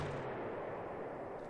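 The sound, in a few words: strafing run gunfire in Panzer Corps video game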